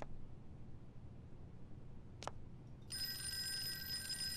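Telephone in the horror video game Fork Road starts ringing partway through, a steady, bright electronic trill after a quiet, faintly humming stretch and one short click, with no talking.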